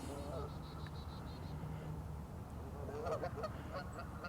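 Geese honking at a distance in a garden in February, a faint run of calls over steady outdoor background noise.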